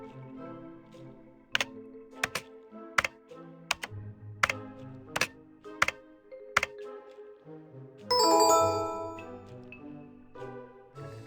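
Password keys tapped on a keyboard in a point-and-click cat detective game, a run of about a dozen sharp, separate clicks at an uneven pace, then a brighter burst of interface chime near the end, with no voices.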